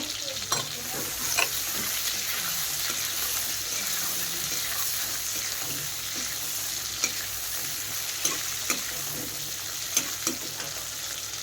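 Onions fry in a pan with a steady, fairly quiet sizzle that runs throughout, broken now and then by small crackles and pops, and no voices.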